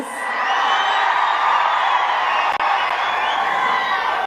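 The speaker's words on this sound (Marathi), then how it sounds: "प्रचंड उत्साहाने लोक टाळे वाजवत आहेत" Dense crowd at a political rally in Beed clapping and cheering enthusiastically, a loud, steady wall of applause and shouts that holds throughout with a brief dip midway.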